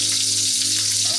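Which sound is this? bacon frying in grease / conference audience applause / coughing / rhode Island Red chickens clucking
bacon frying in grease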